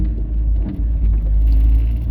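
A car with a modified exhaust and freshly cut front springs drones in a low, steady rumble while driving. Nearby road and engine noise fills the background throughout, with no clunks.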